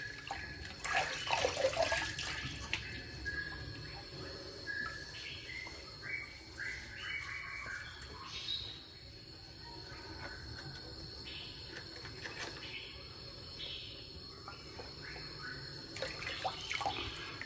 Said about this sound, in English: I always like to rinse my brush out and rinse my face afterward in the soapy water in the sink.